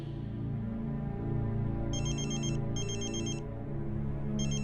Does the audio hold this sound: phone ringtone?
yes